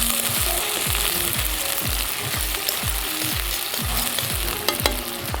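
Sliced onion frying gently in hot oil in a wok for veg chowmein, a constant loud sizzle with a steady rhythmic tapping and stirring pulse underneath, close and without talk.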